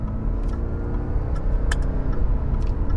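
A Jaguar XF drives on the road, its engine humming steadily with a smooth, continuous rumble as it pulls forward, no voices over it.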